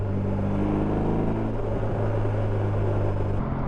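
A BMW R18 Transcontinental motorcycle pulls hard with a deep, rumbling boxer-engine drone under heavy wind buffeting, heard from the rider's seat, the low tones climbing slightly before easing near the end.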